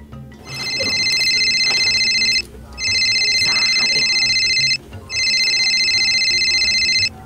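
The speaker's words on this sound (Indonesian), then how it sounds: "Orang telepon heula si Ogut" A telephone rings in three long electronic bursts separated by short gaps, steady and fairly loud over a murmur of background noise.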